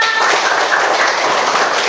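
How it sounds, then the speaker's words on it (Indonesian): Dense hand clapping from a group in a classroom, a steady loud wash of claps with no pauses, close and filling the space. "Tepuk tangan."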